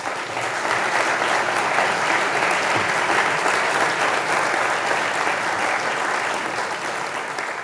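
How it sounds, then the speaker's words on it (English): Steady applause from a lecture audience honouring Dr. Johannes Siebert, even and sustained throughout at close range, with no talk over it. "Please give applause to Mr."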